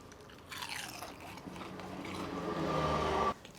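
Crunchy bites into a beer-battered onion ring seasoned with seasoning salt and Parmesan, close-up crisp crunching and chewing that builds over a few seconds with no talking.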